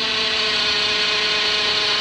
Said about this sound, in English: So we have to make drill holes to run the wires.